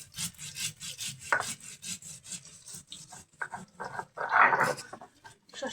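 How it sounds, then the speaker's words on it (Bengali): Mustard seeds, cumin and green chillies ground by hand on a stone, giving rhythmic rough rubbing and scraping strokes in bursts with short pauses, close and moderately loud, no talking. "সর্ষেটা ভালো করে বেটে নিতে হবে।"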